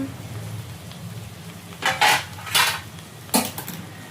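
A pot lid comes off and a tomato and okra curry is stirred, with a few sharp metallic clinks and scrapes of the spoon against the pot over a faint background sizzle.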